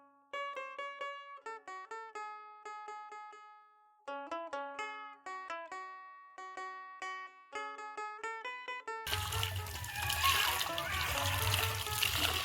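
Running water pours loudly and steadily as soaked clothes are washed by hand, following a stretch of plucked tonal music.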